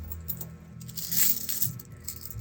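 Coins clink and jingle inside a coin bank being saved up in a bag, a cluster of bright metallic chinks close by with a louder rattle in the middle, no talking.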